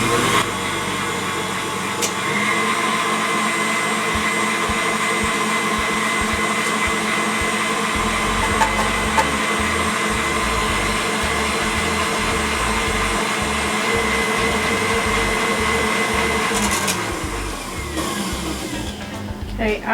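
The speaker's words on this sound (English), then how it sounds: "let the mixer back down, turn it on high, and slowly add your sugar and your vanilla" An electric stand mixer whirs steadily on high, beating egg-white meringue as sugar and vanilla go in, a loud continuous motor drone with a shift in pitch partway through, close up and without voices.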